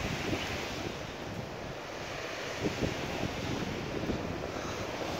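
Surf rolls steadily onto the beach at Anse Forbans in the Seychelles, a continuous wash of breaking waves with wind buffeting the microphone.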